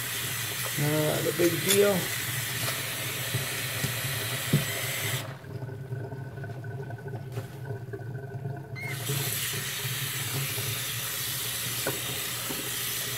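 Running water rinsing raw aluminum castings in a sink, a steady close splashing hiss that cuts off briefly midway and then resumes, with a few spoken words early on.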